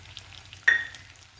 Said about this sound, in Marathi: शेंगदाण्याचा कूटही छान असा आपण त्याच्यामध्येच परतून घेतलेला आहे